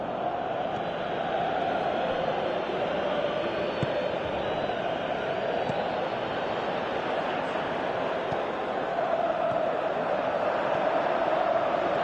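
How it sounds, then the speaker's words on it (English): Stadium crowd in the football video game PES 2018, a dense, steady roar of massed voices with swelling chants and calls to shoot, continuous and fairly loud throughout with no distinct talk. "Crowd calling for him to shoot."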